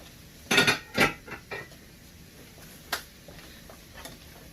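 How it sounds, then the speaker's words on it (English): Dishes set down into a kitchen sink: two loud clattering knocks close together, then a few lighter clinks and taps. "So we'll put this in the sink to be washed."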